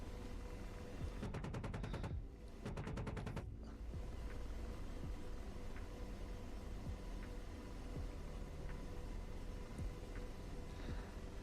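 Aircraft cannon in the DCS flight simulator game firing two rapid bursts, one around a second long and a shorter one soon after, loud and close over a steady engine drone with no talking.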